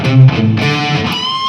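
A short, slow phrase from a guitar solo on a distorted electric guitar, a few sustained notes sliding into one another, loud and upfront.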